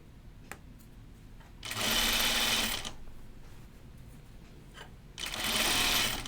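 A sewing machine runs in two short bursts while stitching understitching along a bias-faced dress seam, a close, even whirring with a quiet pause between the runs.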